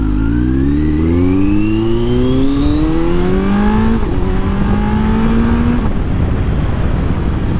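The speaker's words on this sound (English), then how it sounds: "I know the slip-on is not the loudest exhaust" 2020 Kawasaki Z900 with a slip-on exhaust accelerating hard through several quick-shifted gears, each rising engine note dropping briefly at the shift before climbing again, loud and close over wind noise.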